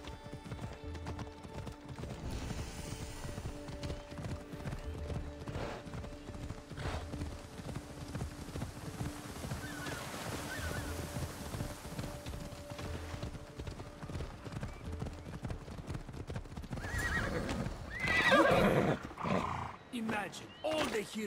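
The horse Phobos gallops in the Assassin's Creed Odyssey video game, steady rhythmic hoofbeats pounding throughout under continuous narration, swelling louder near the end.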